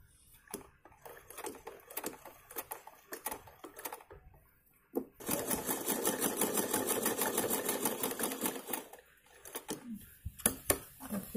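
Sewing machine stitching salwar fabric, sparse taps and clicks giving way to a sustained loud mechanical run of several seconds, then more scattered ticks with faint sounds around.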